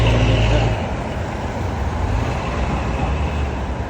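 Constant roar of busy highway traffic passing close by, loud and continuous with vehicles rushing past.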